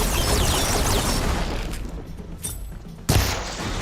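In a Horizon Forbidden West video game scene, an enemy machine fires a dense, loud stream of shots down the center, then pauses before one more sharp blast lands close by.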